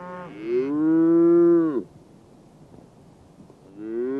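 A lone calf left on a Rocky Mountain cattle trail bawls loudly and close, one long drawn-out moo followed by a pause of quiet outdoor air, then the start of another call.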